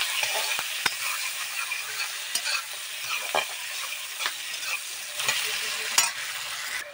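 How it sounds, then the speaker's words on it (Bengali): Chopped onions fry in a pan, a steady close sizzle broken by repeated sharp scraping stir strokes, with no voices. "এবার পেঁয়াজগুলো একটু লাল লাল করে ভেজে নেব।"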